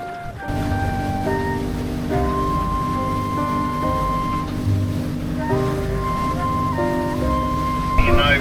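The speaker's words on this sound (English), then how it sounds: "that radio's a bit loud there" A radio plays music loudly on an offshore fishing boat, tonal notes and melody over a constant engine and water rumble, close and steady throughout.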